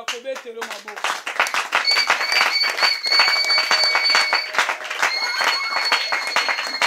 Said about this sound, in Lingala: nous te donnons l'offrande des acclamations